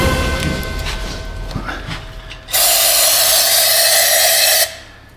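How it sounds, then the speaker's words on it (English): Brake cleaner aerosol blasting out a clogged fuel filter from a John Deere 35D excavator, a loud, steady close-up hiss lasting about two seconds after some quieter handling noise. "Get some brake clean, blast that thing out."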